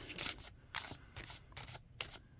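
A linen-finish tarot card deck being shuffled up close, with repeated bursts of crisp riffling and flapping card noise separated by brief pauses.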